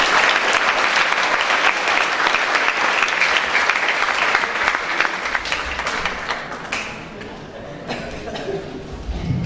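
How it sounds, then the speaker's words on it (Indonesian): Loud, dense applause from the audience at a national seminar in Bali, sustained for several seconds and then gradually thinning out as the clapping fades. "Saya minta semua orang tepuk tangan yang keras buat Bali Devanta Institute."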